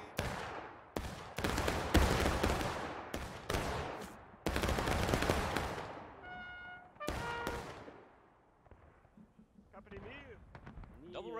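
Musket volleys from reenactors at a Gettysburg reenactment event ring out as a string of loud, sharp cracks with echoing tails, some in ragged bursts, followed by a quieter stretch with distant voices and commands.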